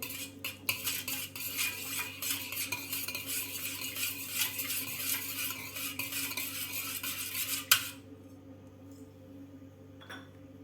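A spoon stirs and scrapes against a bowl while spices such as a pinch of turmeric are mixed for besan papdi, brisk clinking and rattling for about eight seconds, then stopping into near quiet.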